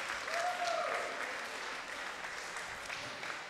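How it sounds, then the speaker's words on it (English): Sustained crowd applause fills the hall after a boxing bout at a fight night, a steady dense roar of clapping at moderate level with a brief whistle early on and no talk over it. "Big round of applause for these two warriors tonight."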